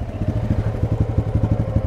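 A motorcycle engine chugs at low revs on a muddy road, a close, steady throbbing pulse with a slight clatter.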